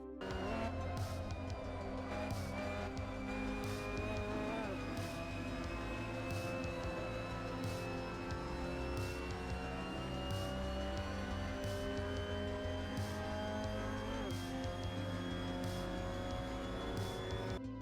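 Mazda MX-5 Cup car lapping Hockenheimring in the Assetto Corsa racing game, a continuous engine drone rising in pitch through the gears with brief shift dips, steady and close throughout.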